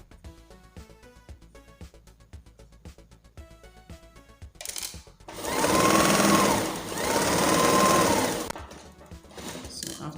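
Sewing machine stitching tulle net ruffle trim, two long continuous runs of rapid whirring needle chatter in the second half, close and loud, preceded by quieter light ticking.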